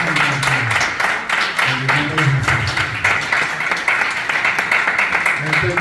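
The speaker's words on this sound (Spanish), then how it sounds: "Demos un aplauso a Cristo" A church congregation applauds together, with sustained dense clapping filling the room throughout while a voice speaks over it.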